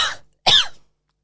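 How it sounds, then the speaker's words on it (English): A person coughs twice, loud and close, with a short pause between the two bursts and no talking. "You just cough in my presence"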